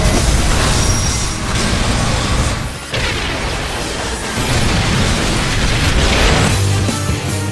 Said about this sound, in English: a parked car exploding next to the track